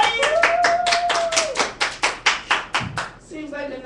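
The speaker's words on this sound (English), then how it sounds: "give 5 hand clap praise for him" A small group claps in praise, the claps falling in a short run of distinct, evenly spaced strikes while a tone hums beneath and voices carry on before and after.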